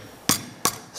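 Three sharp, close hammer strikes on pencils ring out at roughly even intervals, each a bright, brief crack against quiet background.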